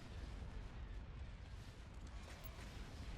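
Sustained, dense rumble of starship battery cannons firing in the Star Wars space-combat game Thrawn's Revenge, continuous and loud, with no clear separate shots standing out.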